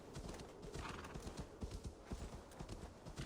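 Horse hooves clip-clopping in a steady trotting rhythm through snow in Assassin's Creed Valhalla, with a whinny rising above the hoofbeats; fairly quiet and continuous, with no talking.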